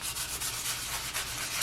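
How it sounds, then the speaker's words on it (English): Wet/dry sandpaper rubbing back and forth along polymer clay edges, a steady close, soft abrasive scratching with a gentle stroke rhythm. "just grab your sanding paper or wet dry sandpaper and just start sanding the edges"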